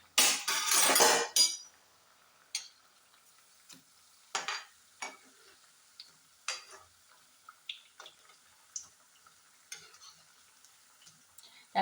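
Kerala-style parippu vada lentil fritters frying in oil over a medium flame. A loud burst of sizzling opens the sound, then it settles into faint bubbling with scattered clicks and taps, close up and with no talk.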